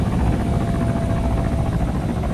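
A Mi-28N attack helicopter in the video game ARMA 3, its loud, steady rotor thump and turbine roar filling the whole short stretch without pause.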